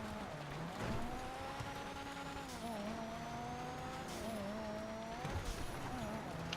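A Furore GT sports car in GTA Online slides through snow, its engine droning steadily with shifting pitch and faint tyre scrub, fairly quiet and without talk.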